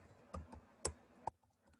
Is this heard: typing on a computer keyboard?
yes